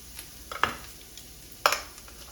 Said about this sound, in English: And I'm gonna add my garlic right here with my onions.